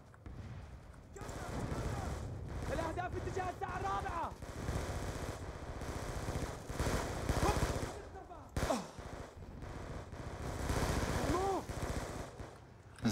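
Video game gunfire from Call of Duty: Black Ops 2, with rapid automatic bursts and scattered shots repeating through the whole stretch, loud and dense, and someone talking in between.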